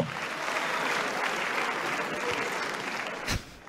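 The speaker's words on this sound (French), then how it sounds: "on entend quelques applaudissements du côté de l'opposition" Applause from the opposition benches in the French National Assembly during questions to the government, a steady dense patter of many hands heard from a distance, fading out near the end.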